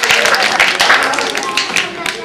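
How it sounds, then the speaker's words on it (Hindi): An audience applauds at a Republic Day celebration, with dense, steady clapping from a crowd that carries on under a voice talking over it. "कृपया तालियां बजा करके अभिवादन करें।"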